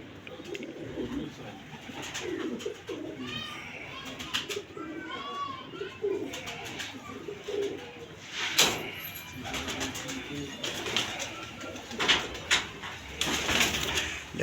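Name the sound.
pigeons cooing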